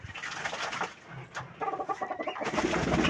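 Domestic pigeons bathing, with close soft cooing and busy rustling, splashing movement rising toward the end, moderately loud, no voices.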